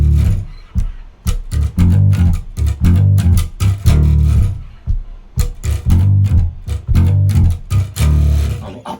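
Five-string electric bass plays a riff built around a low D, in a loud, steady stream of punchy, syncopated low notes with short gaps between them and no talking.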